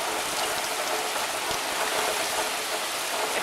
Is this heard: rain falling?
yes